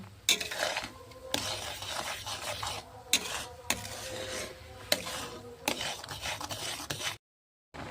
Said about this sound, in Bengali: চিনি দিয়ে এটাকে ভালো করে মিক্স করে নেব